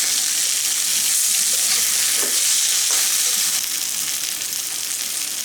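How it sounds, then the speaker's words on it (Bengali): Stingray pieces sauté with spices in a pan, giving a loud, steady sizzle and frying hiss with faint stirring scrapes, no voices. "আমি মশলার সঙ্গে মাছটা খুব ভালোভাবে কষিয়ে নিয়েছি।"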